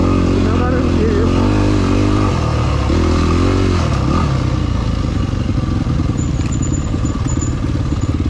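A Yamaha WR250F off-road motorcycle idles and blips its throttle on a rough mountain trail in winter. The engine chugs loud and close with clattery rhythm, and a rider's voice sits faintly underneath.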